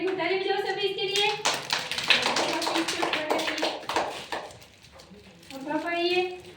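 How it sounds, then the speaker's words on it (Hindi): A group of people, some of them children, clap their hands together in a room, a burst of dense, fairly loud applause with scattered speech on either side of it. "ताली बजाओ सभी इसके लिए"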